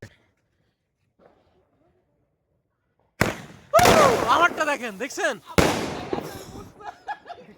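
Firecrackers at a puja celebration, a couple of sharp loud bangs after a quiet stretch, mixed with excited shouting voices nearby.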